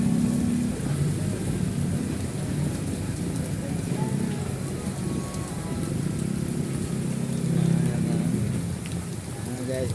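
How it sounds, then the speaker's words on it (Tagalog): Heavy rain pours steadily on a morning roadside with light traffic, a dense, continuous hiss of drops close by that holds at an even loudness throughout. "malakas ang ulan, madulas ang kalsada"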